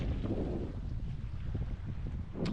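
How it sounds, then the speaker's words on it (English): Steady wind roars across a remote seaside beach, a dense low rumble of buffeting gusts on the microphone that holds constant throughout with no voices. "the wind is blowing from that side"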